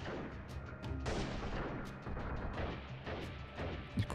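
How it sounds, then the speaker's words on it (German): Bursts of gunfire come from above in the video game Freeman: Guerrilla Warfare, with repeated sharp shots and booms over a noisy battle backdrop, fairly faint overall. "Ich bekomme Schüsse von oben."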